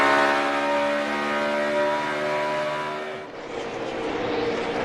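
NASCAR stock cars roar through a turn at Pocono Raceway, a steady loud engine drone with rising harmonic whine that dips briefly as cars pass, then swells again; no talk.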